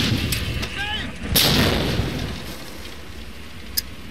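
A booming wartime explosion from the WWII shooter Medal of Honor: Allied Assault Spearhead, a loud broadband burst near the middle with a rumbling tail and scattered gunfire cracks around it.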